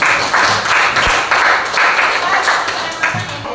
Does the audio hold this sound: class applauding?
yes